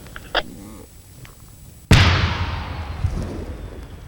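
After a quiet moment, a controlled detonation of found munitions in Ukraine booms suddenly, its deep blast rumbling and slowly fading over the next few seconds.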